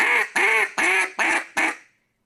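A hand-blown duck call gives five loud, close quacks in an even, spaced rhythm, each note rasping and nasal, with the last one trailing away into silence.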